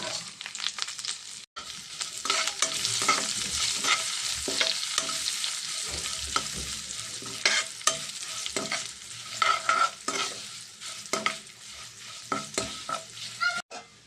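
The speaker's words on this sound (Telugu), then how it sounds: "మనం వేసిన ఇంగ్రీడియంట్స్ అన్నీ కూడా బాగా ఫ్రై అయినాయి కదండి" Curry leaves, coriander, fish masala, chili powder and garlic frying in a pan, a steady hissing sizzle broken by repeated scrapes and clacks of stirring, close and fairly loud with no voices.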